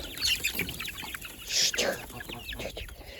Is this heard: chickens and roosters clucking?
yes